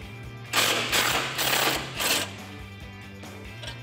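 Impact gun backing bolts out of a truck frame during a 2017-2019 Ford Super Duty fog light install: four close, loud rattling bursts in quick succession, then quieter mechanical ticking with no speech.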